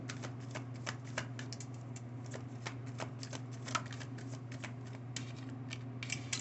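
Tarot cards are shuffled in a rapid series of crisp riffling flicks and soft slaps, close and steady over a low constant hum, with no talking.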